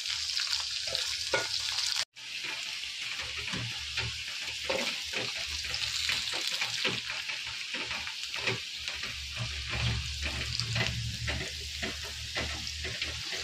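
Potatoes fry in an old black nonstick pan with a steady, moderate sizzle and soft crackle throughout, briefly cut off once near the start, with no talking.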